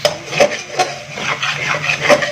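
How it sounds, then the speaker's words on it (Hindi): Spatula scraping and clinking against a pan while aloo gobhi, potatoes and cauliflower with crushed white cumin, is stirred, giving a series of irregular close scrapes and knocks with no talking. "इसको थोड़ा सा दोबारा मिक्स करेंगे और इसको मज़ीद थोड़ी सी बुनाई करेंगे"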